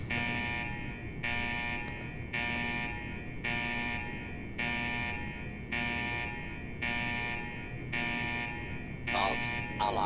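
An alarm buzzer sounds in a steady repeating pattern of about nine evenly spaced bursts, each roughly half a second long, loud and close with a low hum beneath.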